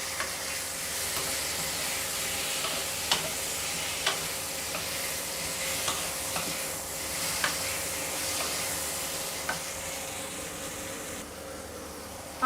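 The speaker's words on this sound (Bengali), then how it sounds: "সর্ষে লাফাচ্ছে, এরকম অবস্থায় আমি আমগুলো দিয়ে দেব।" Mango pieces fry in hot oil with popping mustard seeds for aam dal, a steady close sizzle and hiss punctuated by sharp pops and occasional stirring clicks, no voices.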